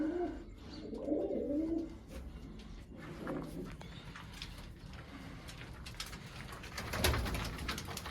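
Low, rolling coos of pet pigeons in a coop with chicks, strongest early on and fading into quieter calls, with light knocks and rustling in the enclosure.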